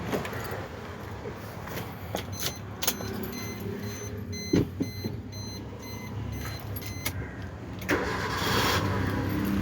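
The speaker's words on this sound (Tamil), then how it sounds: "பார்த்தீங்களா, ஒரே இதில் ஸ்டார்ட் ஆயிடுச்சு." A 2012 Maruti Suzuki Swift VXI petrol hatchback with 67,000 km cranks and fires up on the first try, settling into a low idle. A few sharp clicks and thumps from around the car sit over the starting sound, and nobody speaks.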